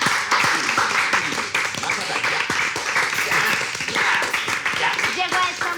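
Applause and clapping in a room for a business announcement, a steady burst of many hands under and among overlapping voices.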